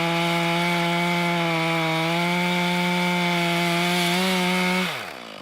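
A chainsaw cuts through a huge piece of wood, its engine holding a loud, steady, high-pitched drone under load before slowing and dying away at the end.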